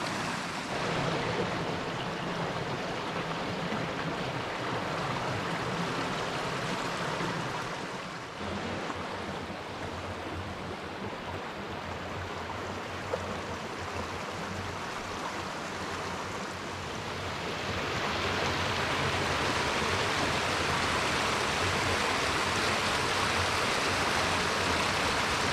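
Winter waterfall at Hells Hollow in McConnells Mill State Park, rushing steadily as a broad, continuous wash of water that holds at a constant level from start to end, with no voices.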